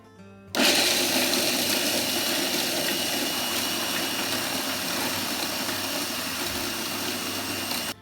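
An electric blender starts abruptly and blitzes walnuts and salty crackers into crumbs, a loud, steady motor whir running for several seconds before cutting off at the end.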